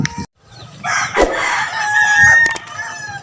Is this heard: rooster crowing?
yes